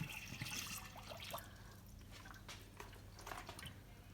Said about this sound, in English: You hear water leaking out underneath.